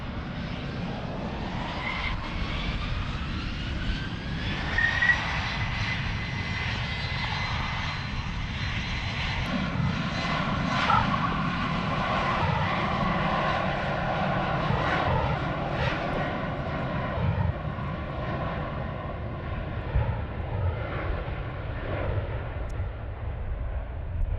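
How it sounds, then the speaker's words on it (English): An Embraer jet takes off from runway 36L at Amsterdam Schiphol Airport under overcast skies, a broad, sustained roar that swells and then slowly fades as the aircraft climbs away. "the Embraer is cutting the line, taking off right in front of us"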